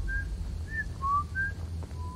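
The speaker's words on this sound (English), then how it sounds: "He's whistling. Or something is whistling." Inside a video game, a thin tuneful whistle sounds in several short rising and falling notes over a low steady background drone, with no talk.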